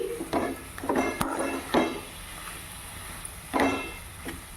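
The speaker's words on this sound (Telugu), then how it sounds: "ఇందులో ఉండే నీళ్ళంతా వెళ్ళిపోయేంత వరకు వేయించుకోవాలి" Grated raw papaya is stir-fried in a pan for halwa, heard as several short clanking strokes of a spoon against the pan separated by quieter pauses, with no talk.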